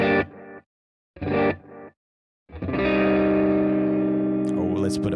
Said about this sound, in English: let's play that same passage without reverb